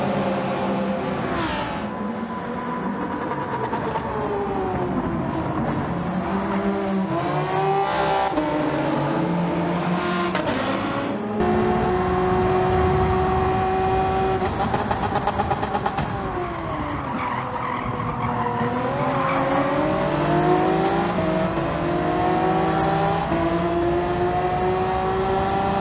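Race cars on the Grand Valley circuit in a racing video game, a Toyota among them, roar steadily with rising and falling engine pitch as gears shift, while tires squeal and skid through corners, loud and continuous without talk.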